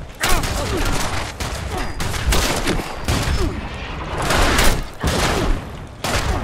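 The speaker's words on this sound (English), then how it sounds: "you mark the enemies with a recon scope, and then in comes the artillery" An artillery strike pounds down in Fallout 76, a dense barrage of loud, overlapping blasts and crackling booms rolling on without pause for several seconds.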